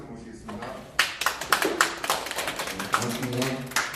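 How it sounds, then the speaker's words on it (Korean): An audience claps to welcome a union branch leader to the podium at an outdoor protest rally, with a burst of close, irregular hand claps and taps mixed with voices. "박수로 모시겠습니다"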